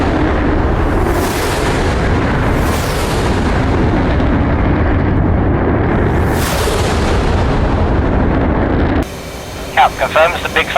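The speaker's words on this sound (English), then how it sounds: "going for a guns run on one of the SS6 sites" A jet in the DCS World combat flight game makes a gun run on ground targets: a loud, continuous roar of engine and cannon fire with sweeping whooshes, followed by a short quieter stretch with radio chatter.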